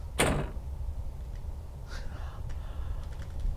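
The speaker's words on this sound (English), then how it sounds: "Ooh, the door is locked." A locked door in a video game gives a single brief, close rattle near the start, then only faint scattered clicks over a steady low background.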